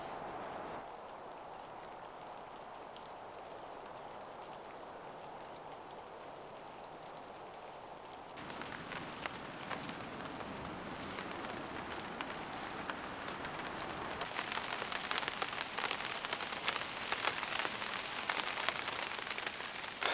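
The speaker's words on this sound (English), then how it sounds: "sound like the rain is here already" Rain falls on a lush green forest campsite, first as a soft steady patter, then growing denser and louder about halfway through into a close, crackling drumming on nearby surfaces, with no talking.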